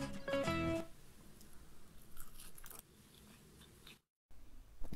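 Crunchy caramelized fried chicken pieces bitten one after another, twice-fried so the coating is extra crisp: a loud crackling crunch opens, then softer close chewing and crunching follows, with no talking.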